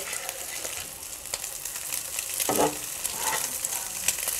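Noodles mixed with egg sizzle and fry in a pan for home-cooked Chinese-style noodles, a steady crackling hiss with brief scraping stirs, close and moderately loud with no talking.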